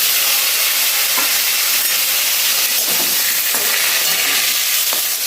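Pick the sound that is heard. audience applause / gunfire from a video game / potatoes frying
potatoes frying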